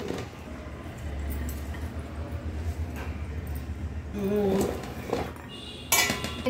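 Bowls and dishes clink and clatter in a home kitchen as mango pieces are measured out bowl by bowl for pickle, with light knocks through the clip, a brighter clink near the end and a low hum underneath.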